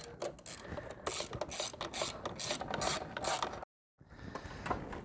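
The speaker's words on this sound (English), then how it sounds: "I'm using a 5/8 socket with a long extension, so you can have the room to tighten it" Ratcheting socket wrench with a 5/8 socket on a long extension tightening an intake clamp on a BMW 340i xDrive B58 engine, giving rapid repeated clicking bursts for several seconds, a brief pause, then more clicking.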